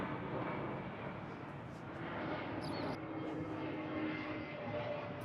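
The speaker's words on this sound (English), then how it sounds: "airplane" A propeller airplane drones steadily overhead, a broad, constant rumble heard on its own with no talking.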